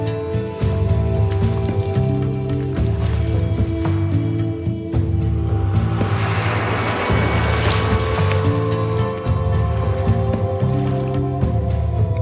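A girl lowers herself into an upper water-filled barrel during a magic escape stunt, sending up a broad burst of splashing and sloshing water midway, with steady low droning music running throughout.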